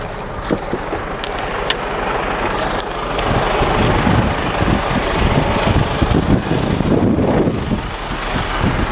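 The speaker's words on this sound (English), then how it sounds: "Bit windy out here, sorry, I do apologise" Loud wind buffets the microphone in rough, rumbling gusts outdoors, with a vehicle faintly humming underneath and no clear talking.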